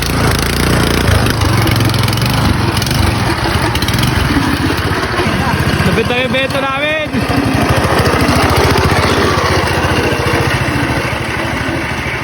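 A small engine drives a homemade rail vehicle along train tracks, a loud, steady, buzzing drone that runs throughout, with a man briefly calling out over it.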